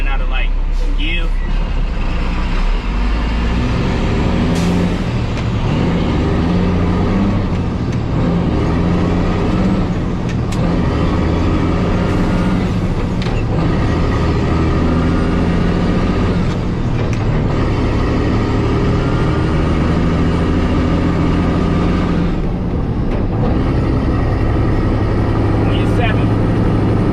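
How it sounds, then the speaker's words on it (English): Heavy dump truck engine droning loud and steady for the whole stretch while gears are floated without the clutch, the RPM rising and falling with each shift, with voices faintly under the roar. "the best thing to do is listen for the sound of the truck"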